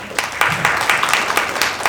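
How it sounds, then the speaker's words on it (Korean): Applause from an audience at a village self-governance results-sharing meeting, a steady dense crackle of clapping with regular peaks throughout, fairly close and with no talk over it. "큰 박수로 청해 듣겠습니다."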